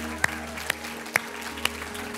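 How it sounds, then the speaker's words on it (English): A church congregation claps in praise during a Sunday morning service, four sharp, spaced claps over a low background hum. "Can we give him a hand clap of praise this morning?"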